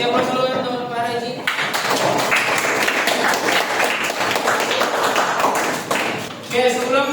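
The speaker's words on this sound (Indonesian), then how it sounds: "Kasih aplaus dulu untuk Pak Rezi." A classroom audience at an open-class session claps together in a loud, steady burst lasting about five seconds, with a voice speaking just before and just after.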